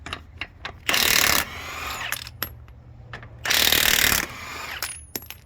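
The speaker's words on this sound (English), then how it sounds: "I'm gonna go put the socket on that and look." Socket ratchet spinning off loose wheel nuts on an International Harvester F9370 truck, two sustained bursts of rapid clicking ratcheting close by, with separate sharp metallic taps and clunks in between.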